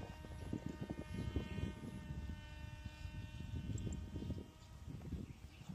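A Volantex Ranger 1600mm RC plane coming in to land, its electric propeller a steady buzzing drone with a faint high whine, held at an even moderate level throughout with no voices.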